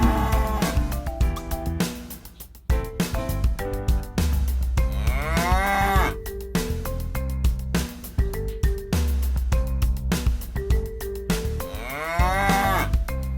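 Repeated cow moos from a sound effect in a children's animal drawing game, loud and close, several long lowing calls in a row over a bright musical backing, with no talking.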